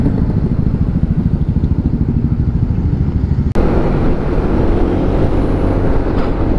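Motorcycle ridden through Jakarta streets, its engine a loud close putter under steady wind noise, with a brief sharp break partway through before the ride continues.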